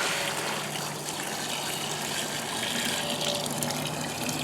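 Water gushes steadily into a 5 gallon cooler for mashing a one gallon beer batch, a continuous broadband rush close by, with no talk.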